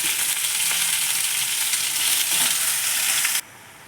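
Chopped amaranth greens frying in a pan for a simple palya, a dense continuous sizzle with faint stirring scrapes, close and steady, stopping abruptly near the end.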